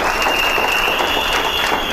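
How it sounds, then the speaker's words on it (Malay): An audience at a corporate talk gives a round of applause for SAB, dense sustained clapping from a crowd, loud and even throughout. "Tepukan bagi SAB."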